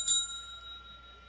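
A real handheld bell, rung once on a live hangout stream, gives a single bright metallic ding that fades slowly into a sustained ring over about a second, alone and fairly quiet.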